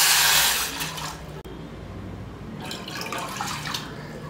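Two cups of water pour into a cooking pot while making homemade sago vadagam, a loud rushing splash at first that eases into a softer, steady trickle with a brief clunk partway through.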